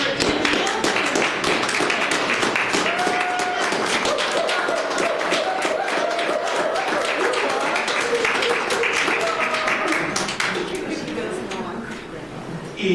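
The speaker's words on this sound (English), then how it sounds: "they can raise their hand and let us clap" An audience claps for veterans in a room, a sustained spattering of hands with speech mixed in, continuing for most of the stretch before tapering off near the end.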